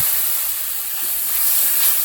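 Water is added to frying spice paste with salt and chili for a pumpkin-greens and pointed-gourd mustard curry, a loud steady steam hiss and sizzle throughout, with no voices.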